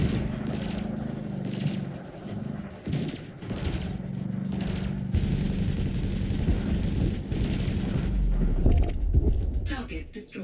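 Ship-mounted multi-cannons firing in Elite Dangerous during a space dogfight, rapid metallic bursts under spoken game narration, growing busier and more intense toward the end.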